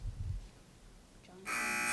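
A quiz match answer buzzer sounds in a single loud, sustained electronic tone that cuts in abruptly near the end after a quiet stretch.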